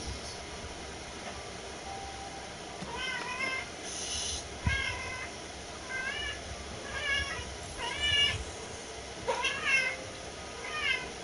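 A cat meows repeatedly in short, rising calls spaced every second or so over a steady background hum, fairly close and moderately loud, with no talking.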